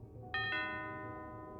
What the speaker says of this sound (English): I made my way back to Kyle's place and rang the doorbell at around 7:45.